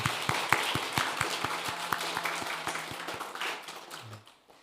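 Church congregation claps together in a steady rhythmic beat at a Sunday service gift presentation, a sparse, evenly spaced run of sharp claps that fades near the end with faint voices underneath.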